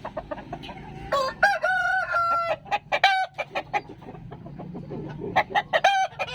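A young rooster of about 3 kg crows nearby, its call cracking and uneven, mixed with scattered clucks and other fowl in the background.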